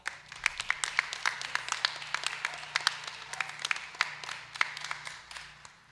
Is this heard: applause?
yes